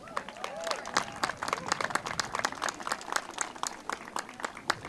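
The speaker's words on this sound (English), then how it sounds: "Give a big round of applause for Ben, who's just jumped in and is representing so" Audience applause at a West Roxbury community coffee hour with Mayor Michelle Wu, dense sustained hand clapping from a nearby crowd lasting throughout, with scattered sharp individual claps standing out.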